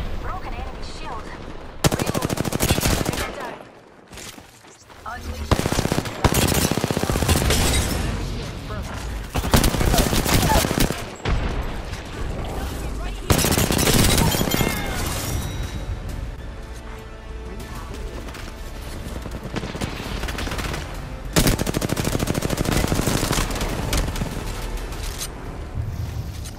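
Rapid bursts of automatic gunfire from an Apex Legends ranked match, repeated volleys loud and close with brief pauses between firefights, over a dense game soundscape.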